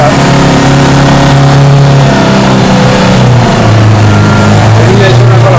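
Vehicle engine running steadily and loud while Benni drives on a rescue trip, its low drone shifting in pitch as it changes speed, with wind and rumble throughout.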